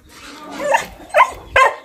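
A dog on a farm gives several short, sharp barks in quick succession, close and loud, with brief pauses between them.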